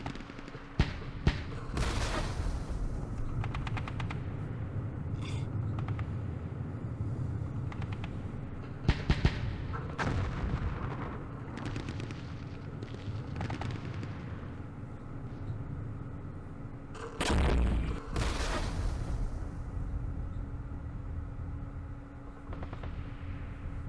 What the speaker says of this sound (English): That was just random shots back there to see if we can do any damage